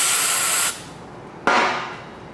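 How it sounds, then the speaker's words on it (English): Compressed air blasts through the passages of a Ford 302 small block engine block: a loud, close hiss that cuts off abruptly, then a second sharp burst that slowly tapers. "again, hit it with our compressed air"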